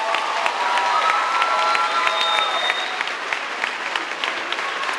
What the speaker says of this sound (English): So how about one more applause for all these young.